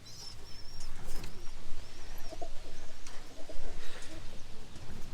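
Pigeons coo softly in a loft amid steady background noise, the low murmuring calls repeating across the whole stretch with faint chirps above.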